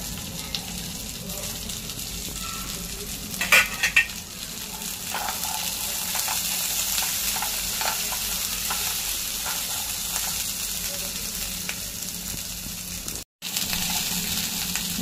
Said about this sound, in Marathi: लसूण आलं मस्त फ्राय होत आहे